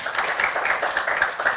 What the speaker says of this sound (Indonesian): Boleh tepuk tangan loh.